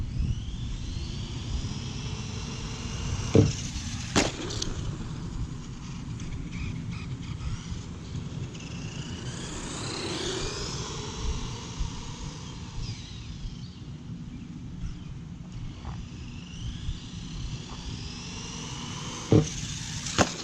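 A Traxxas 1/16 Summit VXL 4x4 RC truck runs with a steady high electric motor whine that rises and falls as it drives at a ramp, with a few sharp knocks from landings, heard alone outdoors.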